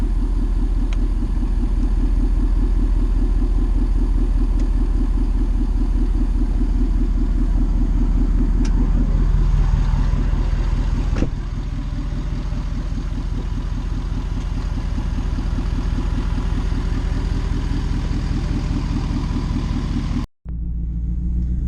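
A Ford 6.7 Powerstroke diesel truck drives steadily with a continuous low engine rumble, close and fairly loud throughout, dropping out briefly near the end.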